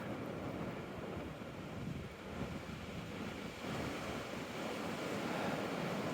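Wind blows through a selectively harvested forest, a continuous broadband roar with buffeting on the microphone and no talk.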